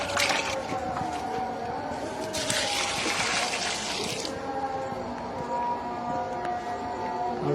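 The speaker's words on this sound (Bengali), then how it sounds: "ওখানে আমি পানি দেওয়ার ট্রাই করতেছি।" Water pours and trickles onto potted seedlings at a plant nursery, a continuous splashing stream that grows louder and brighter midway, with faint outdoor background noise.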